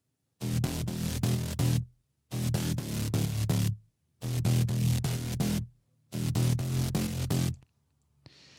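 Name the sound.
synth bass with sidechain compression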